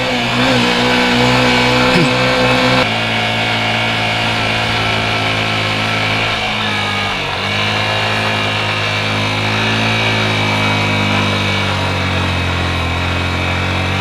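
Motorcycle engine on a steep mountain road to Keokradong, held in first gear, a loud, steady droning hum with a higher whine that shifts pitch partway through, no talk.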